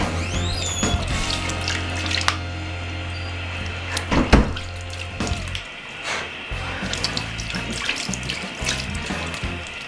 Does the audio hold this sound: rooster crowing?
no